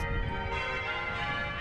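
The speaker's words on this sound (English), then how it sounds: "At the sound of these bells, everyone knows it's time for church." Church bells ringing at St. George's Cathedral, a steady sustained peal with dense ringing overtones filling the short moment, fairly close and alone with no voices.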